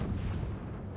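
Battleship République main guns firing in World of Warships, a dense, loud low-end boom that rumbles and sustains for the whole second.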